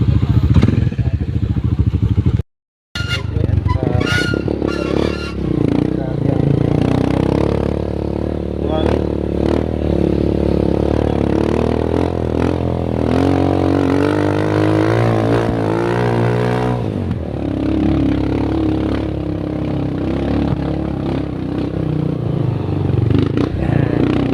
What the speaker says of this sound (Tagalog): Ayan, sakay tayo ng habal-habal.